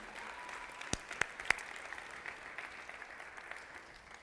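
Applause from an audience at a church gathering, fairly quiet and diffuse, with a few sharper claps standing out near the start before it settles into a low, even patter.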